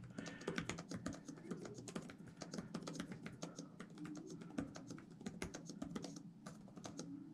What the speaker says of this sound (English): I think I type fast, but this is nothing compared to what some people do.